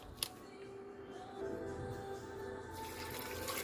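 Water poured into a one-pot chicken curry, a steady broadband rush of liquid running for a few seconds at moderate level, with a brief clatter near the start and no voices.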